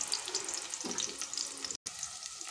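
Onions and spices frying in ghee, a steady close sizzle with a soft stirring scrape partway through and a brief cut near the end, no talking.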